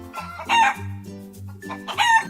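A rooster crows twice, loud and close, each crow a strained rising and falling cock-a-doodle-doo with a short pause between them, heard on its own without talk.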